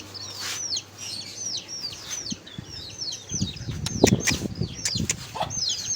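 A hen in a backyard aviary gives repeated chirping calls and clucks at close range, with bursts of wing flapping and scuffling growing busier in the second half.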